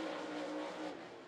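A race car at Volunteer Speedway roars loudly down the front straightaway in a sustained, steady engine note during a race night. The car sounds close, with no voices over it.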